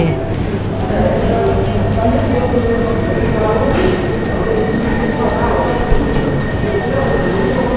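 A Lausanne metro train rumbles steadily with clattering and rolling noise throughout, while people talk over it.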